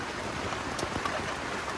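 Steady rain patters and hisses evenly throughout on a mountain at Hulangala, Matale, near a tent, a dense wash of drops with no voices.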